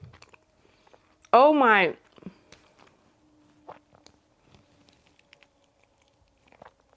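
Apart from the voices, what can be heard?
chewing peanut and chocolate snack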